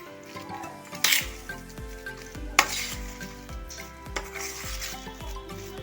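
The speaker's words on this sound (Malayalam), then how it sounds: "നന്നായി ഇളക്കണം." Tamarind leaf chutney mixture with coconut oil being stirred in a pan, with repeated scraping strokes of a spoon over a soft sizzle and a couple of sharper clinks, close and moderately loud.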